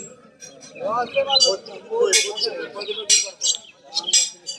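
Pigeons and other birds at a busy pigeon market in Taktarchala bazaar, with scattered chirps and calls rising over mid-distance voices and general market chatter.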